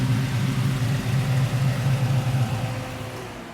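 A Chevy Sport pickup truck engine rumbles in a low, steady drone, loud and close throughout with no one talking.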